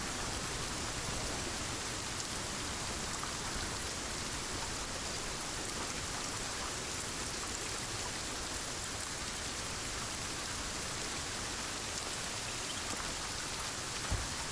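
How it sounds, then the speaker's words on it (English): Steady, dense rain in the survival game Sons of the Forest, a loud constant hiss of drops pounding surfaces that runs unbroken and fills the whole scene with no talk over it. "this rain is so loud"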